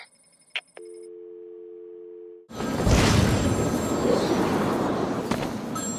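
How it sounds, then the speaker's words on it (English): A telephone rings in short electronic tones for a couple of seconds in Batman: Arkham City. A broad, rushing whoosh of game ambience then takes over, and no one speaks. "There's a phone ringing somewhere."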